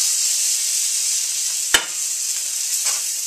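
A thick burger patty sizzles steadily in a hot pan just after being flipped, a continuous close hiss with one sharp clack of the spatula partway through.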